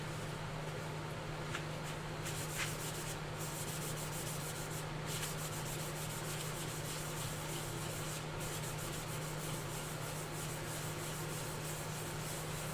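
Green spirit stain being rubbed by hand onto a wooden box, giving a steady, close, continuous scrubbing friction with a low constant hum beneath and no speech.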